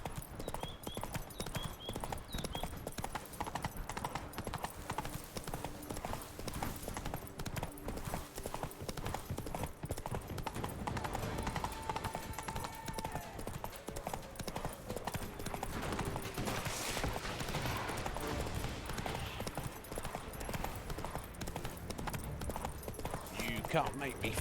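Roach, the horse in The Witcher 3, gallops continuously with dense, rapid hoofbeats under game music and background ambience, while voices talk over the sound at times.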